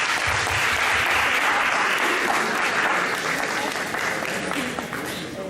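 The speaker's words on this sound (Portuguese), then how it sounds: "desejar a todos um feliz dia e palmas para todos nós que merecemos" A crowd at a tourism geopark workshop breaks into sustained, dense applause that stays loud throughout and tapers slightly toward the end.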